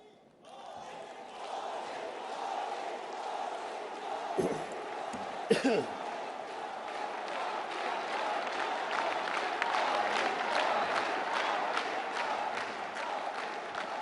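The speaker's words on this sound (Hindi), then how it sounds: "जोरदार तालियां।" Loud, sustained applause from a large audience at a centenary inauguration ceremony of the Gaudiya Mission and Math, steady throughout with a couple of sharp knocks early on.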